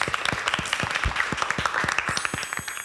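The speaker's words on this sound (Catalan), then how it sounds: "un fort aplaudiment per a vosaltres" Applause from a studio audience at the grand final of a Catalan TV quiz contest, a room of people clapping steadily and loudly throughout, with individual sharp claps standing out near the microphone.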